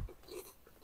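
Crisp, crunchy snack being chewed close up, a few quick brittle crunches at low volume with no talk.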